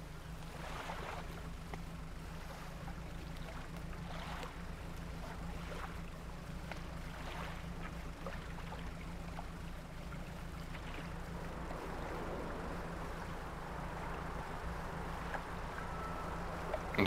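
A small fishing boat in the video game Dredge motors across the water, a steady low engine drone with lapping waves and wind swelling and fading at moderate volume throughout.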